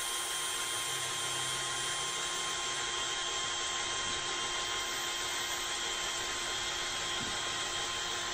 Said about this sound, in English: This carbon fibre arrow shafts are not super easy to drill